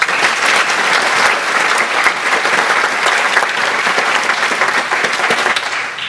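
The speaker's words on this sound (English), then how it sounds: "So please give him a round of applause." A dense, loud round of applause from a lecture audience fills the room steadily, with many hands clapping at once before it tapers slightly at the end.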